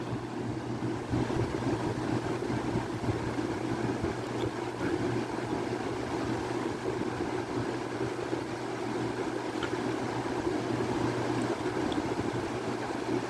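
Lakewood and Holmes electric fans running at medium speed, a quiet, steady whirring hum with a constant low tone and airy wash, unchanging and alone.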